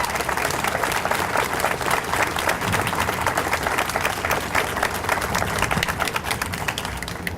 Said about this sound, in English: join me in just one more round of applause and thank these guys for sharing this evening with us